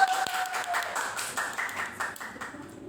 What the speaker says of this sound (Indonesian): tepuk tangan buat Nisa.